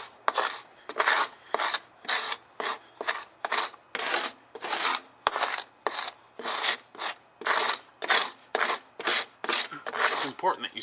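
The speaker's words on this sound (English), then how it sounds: "So we're just going to scrape this now." Steady rhythmic scraping as a hand scraper strips old paint off a wooden window sill during exterior house prep, about twenty close strokes in a regular back-and-forth pattern, with no talking.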